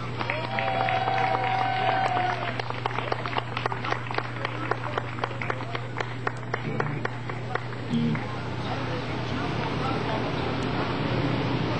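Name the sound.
audience applause welcoming the mayor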